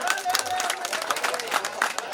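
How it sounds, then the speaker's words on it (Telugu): Audience at a statue unveiling ceremony clapping, a dense burst of applause with crowd noise running the whole way, fairly close and steady. "గట్టిగా చప్పట్లు కొట్టాలి మీరు."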